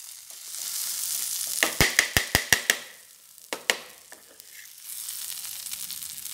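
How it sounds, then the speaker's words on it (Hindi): Vegetable and masala stuffing for stuffed kulche is mixed in a pan over a steady sizzle, with a quick series of sharp metallic clacks from a spatula striking the pan, then a few slower knocks before the frying hiss returns. "अब अच्छी तरह मिक्स करके सब्जी और मसाला को"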